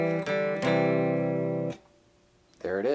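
Guitar plays the closing intro riff as sustained chords with sharp changes and a brief pause, then a voice comes in at the end.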